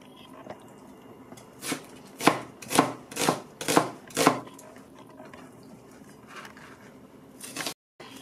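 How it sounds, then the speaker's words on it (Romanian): Onion being chopped finely with a knife on a board, a run of about six or seven crisp, evenly spaced chops close up, followed by quieter scraping and a few light taps. "Tocăm ceapa."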